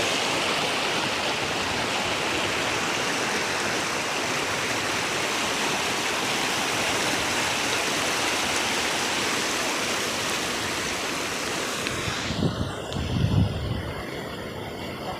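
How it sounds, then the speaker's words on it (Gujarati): Rainwater rushes like a stream in a constant, loud broadband flow for most of the clip, then thins near the end as a few lower thumps come through. "આ પાણી કેટલું જાય છે"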